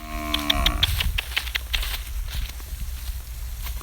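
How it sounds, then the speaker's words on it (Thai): Cattle mooing as they are herded into a pen in the evening, with a long low moo at the start followed by scattered thuds and shuffling of hooves in a busy farmyard. "เลี้ยงวัวครับ นี่"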